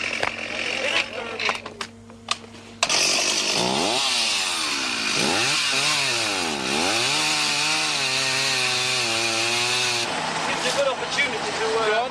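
Chainsaw cutting through jungle in Sulawesi on the 1988 Camel Trophy: a loud, continuous buzzing engine whose pitch swoops up and down with each cut, preceded by clattering work sounds and people talking.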